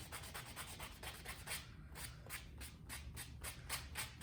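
Hand sanding rasps along leather edges of a saddle bag in steady back-and-forth strokes at an even rhythm, close by and fairly quiet, with no speech.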